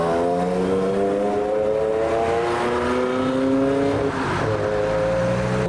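A Ferrari 355 sports car engine revs hard, its loud, rising howl climbing through the gears in steady sweeps with a brief dip near the end, heard close and continuous.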